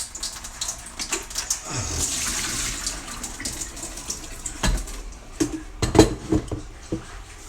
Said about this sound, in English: Need to get a new lot of water in this jug.